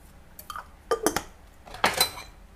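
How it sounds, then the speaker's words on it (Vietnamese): Mixing chicken salad in a dish for a Mekong Delta style chicken congee meal, heard as a few clinks and scrapes of utensils against the dish in short bursts, nearby and with no talking. "Bắt đầu là mình trộn đều lên."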